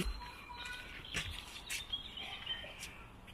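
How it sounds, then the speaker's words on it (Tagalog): Birds chirp and tweet in short, scattered calls at Center Parcs in England, over a faint outdoor hiss, with a soft rustle of insects in the background. "Ang daming ibon."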